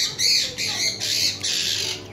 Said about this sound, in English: The bird is singing.